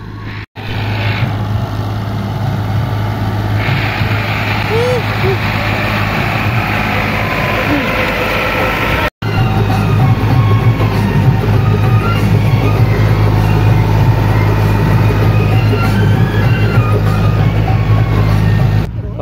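A tractor engine idles close by with a steady low throbbing drone and faint higher mechanical whine, continuous for the whole stretch, one brief dropout near the middle.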